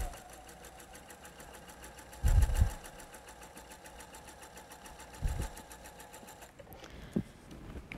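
A sewing machine stitches quilt fabric strips, running steadily with a fast, even mechanical whir, broken by a couple of louder thumps and a brief pause near the end.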